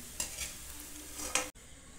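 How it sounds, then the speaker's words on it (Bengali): Paneer frying in mustard oil in a pan, a soft close sizzle with two sharp stirring scrapes before it cuts off. "পনির ভাজা হয়ে গেছে, তুলে নিচ্ছি"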